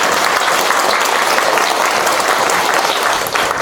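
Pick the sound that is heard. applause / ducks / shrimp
applause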